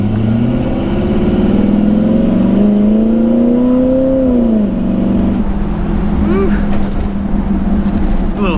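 A 1951 Chevy truck's engine revs and pulls through an acceleration on a test drive, a steady mid-pitched drone rising in pitch, then easing off, with faint voices underneath.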